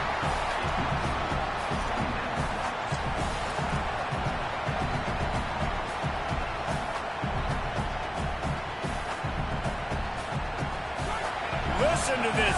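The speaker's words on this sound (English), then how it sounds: "Listen to this crowd just shaking the girders of this place, trying to help their defense." A large football stadium crowd roars continuously after an incomplete pass, a loud, sustained wash of cheering and noise with a commentator's voice faintly underneath.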